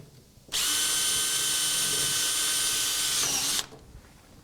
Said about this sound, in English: we'll drill a reinforcement screw